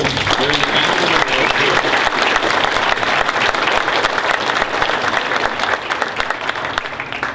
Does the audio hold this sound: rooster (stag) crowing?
no